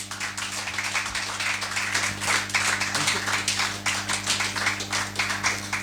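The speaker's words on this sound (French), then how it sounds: "Est-ce qu'on peut acclamer pour Jésus-Christ?" A church congregation claps for Jesus Christ, rapid dense applause and rhythmic handclaps filling the room, with a low hum underneath.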